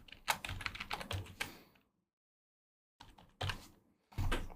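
Text is typed on a computer keyboard while editing in Premiere Pro, close quiet key clicks in a quick run, a silent gap of about a second, then two more short bursts of keystrokes.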